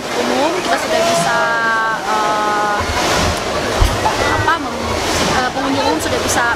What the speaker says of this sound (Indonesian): pengunjung umum sudah bisa menikmati kolam ombak ini sendiri